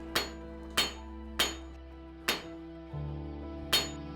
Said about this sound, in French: Je vais pouvoir frapper en modelant mes coups